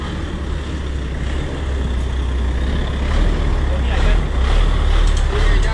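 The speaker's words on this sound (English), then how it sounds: "So I almost get hit by this big truck over here" A big truck passes close on an Athens street, its deep engine rumble swelling loud over steady traffic noise.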